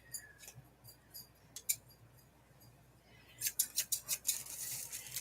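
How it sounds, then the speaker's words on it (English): A small pair of scissors trims paper on a desk: a few sparse, crisp snips at first, then a quick run of louder, close cuts near the end. "we will trim the paper off."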